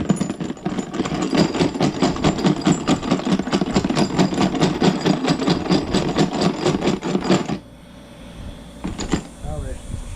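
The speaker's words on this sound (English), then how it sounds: "Cleaning the bolts up." Steady, rapid mechanical buzzing, like a wire wheel or power tool, cleaning bolts for a 351C engine build. It runs loud and close for about seven seconds, then stops, leaving quieter shop sounds and a brief burst near the end.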